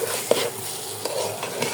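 A spoon scrapes and stirs rice being sautéed in a pot for pulao, with a few distinct clinks against the metal and a soft sizzle underneath; close and moderately quiet, no voices.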